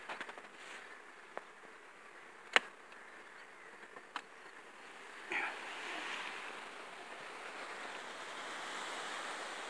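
Honeybees humming steadily around an opened hive of a strong colony kept for acacia honey, a soft continuous drone with a few sharp clicks and knocks from handling the frames.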